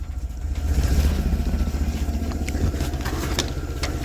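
A Willys CJ-2A jeep engine is started and runs, giving a steady, loud low rumble that keeps going for the whole stretch with no pauses.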